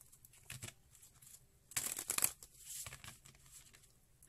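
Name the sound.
shuffling cards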